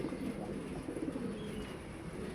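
Pigeons coo softly and continuously at a loft on a drizzly early morning, a low murmuring chorus of several birds with a steady background hiss and no talking.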